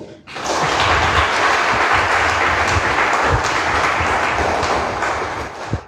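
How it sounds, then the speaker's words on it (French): Applause from the audience at a Catholic social day gathering, a full, loud burst of many hands clapping that rises quickly, holds steady for several seconds and then fades. "je souhaiterais que vous lui accordiez encore un tonnerre d'applaudissements"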